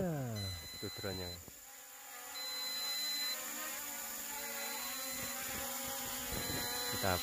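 A whining drone motor buzzes with a high steady tone and shifting pitch, close by, alongside a continuous mechanical drone.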